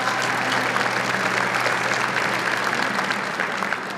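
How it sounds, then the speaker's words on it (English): A ballroom crowd at a city anniversary gala gives a dense, sustained burst of clapping for a jazz band, loud and steady throughout with no speech. "let's give a huge applause to our jazz band that's in the back here"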